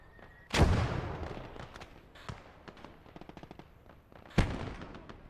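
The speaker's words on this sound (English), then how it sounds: "There's some flanking fire." Flanking gunfire in the WWII strategy game Gates of Hell, with a heavy burst of shots and a loud crack early, a rapid spatter of distant rounds through the middle, then another sharp report near the end.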